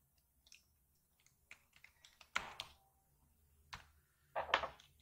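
Keyboard keys tapped while entering a string for a Python type check, with scattered light clicks building to two louder clustered bursts of rapid keystrokes, close and quiet, with no talk.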